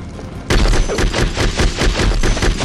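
Grenade launcher blasts and rapid gunfire in Conflict: Desert Storm 2 during a Kuwait oil-fire mission: an abrupt loud boom followed by a dense run of close, sharp shots and thumps.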